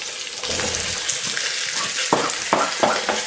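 Potatoes and celery sautéing in a pan for a potée of cabbage cooked in white wine, a steady close sizzle with a few sharp stirring scrapes toward the end.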